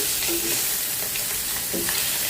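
Small puti fish sizzle in a shallow layer of oil, a loud, close, steady hiss and crackle with a few brief scraping clinks as the pan is stirred.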